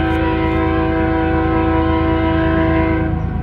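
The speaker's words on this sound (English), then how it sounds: "And I hear the train coming." A train passes near old buildings in Channing, Texas, its horn blaring in a loud, sustained chord over the deep rumble of the locomotive, filling the whole span without speech.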